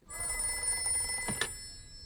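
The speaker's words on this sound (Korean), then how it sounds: "정보장교 레이튼에게 한 통의 전화가 걸려옵니다" A telephone rings in a 1941 home on a quiet Sunday, its bell trilling steadily for about two seconds with a brief louder burst near the end, close and clear with no voices.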